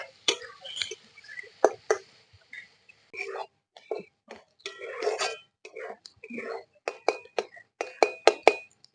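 Spoon scrapes and clinks against a pan while onion, tomato and chopped green chilies are stirred, a string of sharp ticks and sizzling scrapes at close range with soft whispery noise between strokes.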